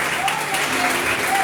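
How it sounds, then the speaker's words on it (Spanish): A church congregation claps continuously and loudly, a dense even wash of applause. "Eso merece un aplauso."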